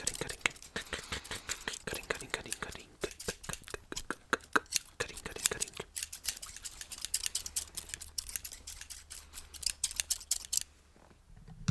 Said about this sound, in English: To get it as short as it needs to be for the Phoenix, we gotta do some cutting here